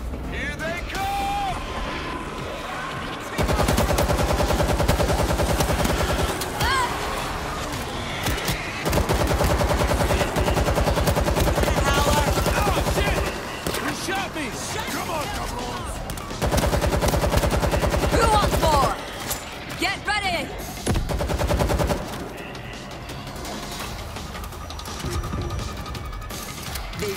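Sustained automatic gunfire in World War Z, set in New York City, coming in long loud bursts separated by short pauses, with shouting voices and game noise mixed in.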